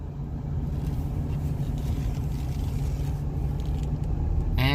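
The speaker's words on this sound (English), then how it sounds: "I'm just gonna give a little rip around the parking lot I'm in real quick" A VW Passat B7 TDI rolls around a parking lot, its engine a steady low rumble heard from inside the car, constant and fairly loud with no talk.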